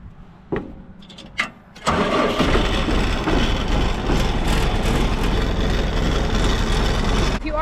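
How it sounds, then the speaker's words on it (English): A 100-horsepower Massey Ferguson 492 tractor gives a couple of short cranking bursts, then fires up and settles into a loud, steady diesel rumble that runs close by to the end. "Start our tractor, give it a minute to run and gather up all our stuff."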